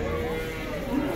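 Cattle at a Bishkek livestock market, a low, drawn-out moo rumbling close by beneath a steady murmur of crowd noise.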